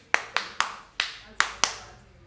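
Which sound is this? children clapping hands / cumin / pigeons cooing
children clapping hands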